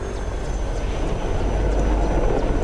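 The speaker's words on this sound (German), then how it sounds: "Hubschrauber? Ja, hier ist ein reger Flugverkehr." A helicopter flies over in the video game DayZ, a steady loud rotor and engine drone with heavy low rumble that holds evenly throughout, with no talk.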